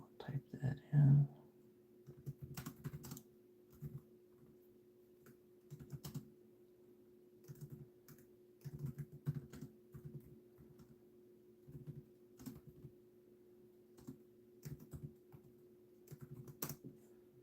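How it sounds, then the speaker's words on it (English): Quiet computer keyboard typing in scattered short bursts of soft clicks over a steady low hum, with faint intermittent whispery talk. "I'll type that in."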